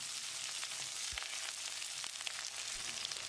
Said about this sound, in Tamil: ஒரு கை அளவுக்கு சின்ன வெங்காயம், இது ஒரு 50 கிராம் இருக்கும். ஒரு 30 செகண்ட் இதை வதக்கிடலாம்.